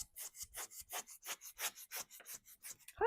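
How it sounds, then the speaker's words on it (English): A Tim Holtz hand-squeezed ink blower puffs air over wet alcohol ink on a gel print. About a dozen short, soft, breathy bursts come in a steady rhythm, close and quiet, with no voices. "This is that ink blower, Tim Holtz ink blower. So I'm not trying to move the ink so much as I'm trying to dry it"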